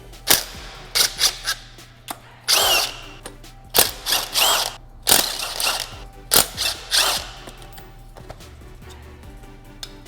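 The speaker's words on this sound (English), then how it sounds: "I'm just gonna remove them with the impact wrench." An impact wrench removes the rear sprocket bolts on an Aprilia RSV4 during a 520 chain and sprocket conversion, firing loud, close, rapid hammering bursts one after another with short pauses between bolts.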